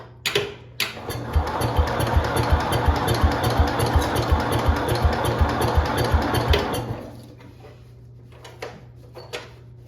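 A 1971 IH Cub Cadet 126 lawn tractor engine starts up and runs nearby with a steady, rhythmic chugging for about six seconds, then dies away, leaving quiet clicks and handling noises.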